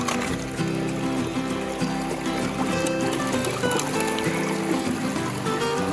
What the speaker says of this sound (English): We got the sluice running.